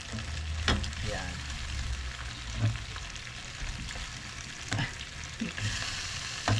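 Fried beef stirred back into a sautéed mixture in a pan for bistek tagalog, soft sizzling with intermittent scraping and knocking of a spatula, close and fairly quiet.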